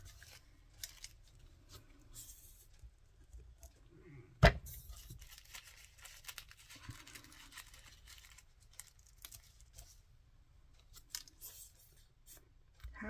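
Paper pushed over and folded down by hand during a craft make, soft intermittent rustles and scrapes with one sharp crinkle, faint and close.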